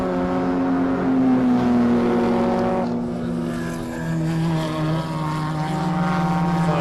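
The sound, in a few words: race cars on track, E30 BMW and Opel Corsa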